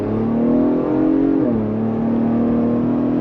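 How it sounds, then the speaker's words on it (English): A 2023 Ford Bronco Raptor SUV with a 3.0L twin-turbo V6 revs hard and accelerates, a loud, throaty exhaust roar holding steady with a brief pitch dip partway through, no voices. "the exhaust is loud for sure"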